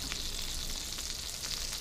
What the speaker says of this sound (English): We're gonna fry it a bit with some melted butter.